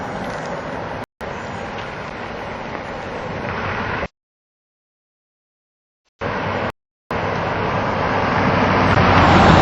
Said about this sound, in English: Sounds like a vehicle approaching